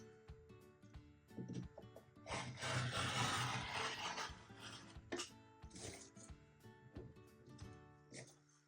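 Fabric scraps cut on a cutting surface with a steady rasping, rubbing sound, close and quiet, swelling into a longer scrape midway and then breaking into shorter strokes.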